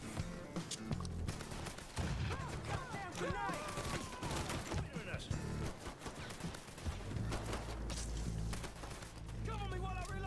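Heavy gunfire rattles through a firefight in the video game Mafia III, bursts of automatic and single shots overlapping with loud, dense intensity while people talk and shout over the shooting.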